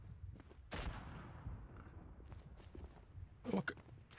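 Artillery and gunfire in the WW1 shooter Verdun: a broadband burst near 0.8 s, scattered distant thuds and shots, and a sharp loud crack around 3.5 s over a rumbling battlefield bed, with no talk.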